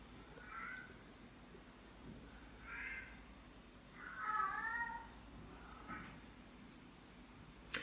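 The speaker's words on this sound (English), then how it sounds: "go hang out with my cat because he's currently crying at the stairs" A cat cries repeatedly at the stairs indoors, several separate meows spaced a second or two apart over a quiet room background, fairly faint and with no one talking.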